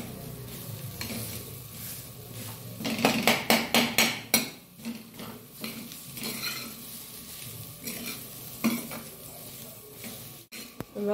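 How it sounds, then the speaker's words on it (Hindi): Potatoes fry in a pan with finely chopped onion and ginger, giving a steady close sizzle broken by a cluster of loud spatula clatters and scrapes in the middle, with no talking. "आलू हमारे फ्राई हो गए हैं"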